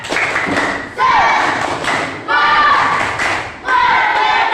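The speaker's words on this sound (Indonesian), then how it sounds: "Tepuk semangat" A classroom of students performs a rhythmic spirit clap in bursts of loud, close unison claps and thumps, with voices shouting along between beats.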